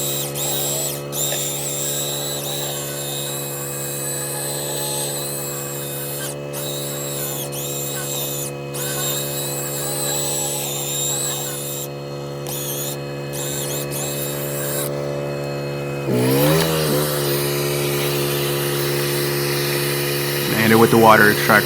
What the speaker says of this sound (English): Spray it, hit it with the drill brush.